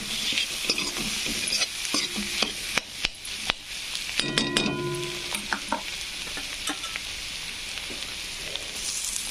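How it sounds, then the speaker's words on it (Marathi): Potatoes and spices fry in a pan while a utensil stirs them, giving a steady sizzle with irregular scraping and knocking strokes against the pan, close and clear with no talking. "मसाले करपून आहे म्हणून हलवून घेऊ जरासं"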